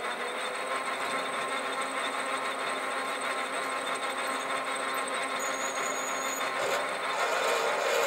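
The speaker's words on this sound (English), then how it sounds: "Okay, just gonna drill a hole into it now." Steady machine whine with a continuous metallic drone of a drill bit boring a hole into brass on a running lathe, no voices.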